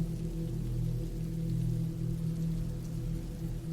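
Steady rain falls as a soft, even wash of patter, continuous and unbroken for a few seconds with no voices.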